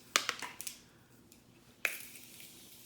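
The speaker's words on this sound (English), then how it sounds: "I'm about to spray my face with the Morphe Continuous Setting Mist" Several quick pumps of Morphe Continuous Setting Mist spray onto a face, a rapid cluster of close, soft hissing spritzes followed by one more spray after a pause.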